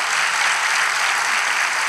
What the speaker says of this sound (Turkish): Coşkun alkış!